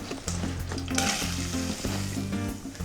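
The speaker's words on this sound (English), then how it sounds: "A tablespoon of olive oil, a tablespoon of butter. In go the onions," Onions sizzle and fry in olive oil and butter in a heated pan, with a steady, loud crackling hiss throughout and a few brief clinks of stirring. No one speaks.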